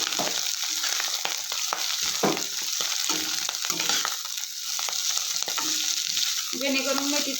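Fenugreek leaves frying in oil with garlic, a steady loud sizzle and crackle with occasional stirring scrapes, close up and without talk.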